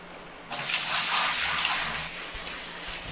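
In the video game Gold Rush, a waterfall gushes in a steady rush of water that starts abruptly, holds for about a second and a half, then drops back to a quiet ambient bed.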